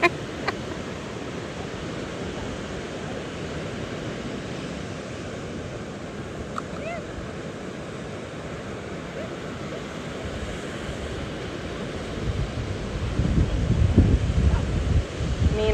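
Ocean surf and wind on an Outer Banks beach in North Carolina, a steady, rushing wash of waves with breezy rumble that swells louder toward the end, with no talking.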